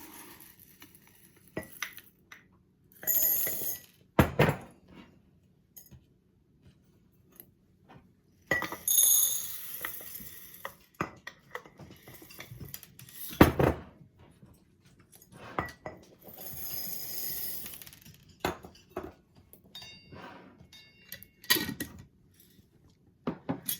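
Small dry pasta shells measured out with a cup into a container for a homemade cheesy Italian shells mix, giving scattered rattling pours and clinks separated by quiet gaps, with no talking.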